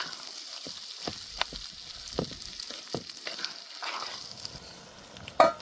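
Corn kernels fry in oil for chevdo, a soft, steady sizzle punctuated by sharp pops and spoon clicks against the pan, quiet and close, with no one talking.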